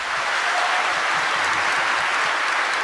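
Steady, dense applause from a crowd in the video game Human Fall Flat fills the whole moment, loud and continuous without pause.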